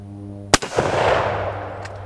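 A single sharp gunshot cracks out at a broken heater, followed by a lingering outdoor echo and rumble, with a hum running underneath.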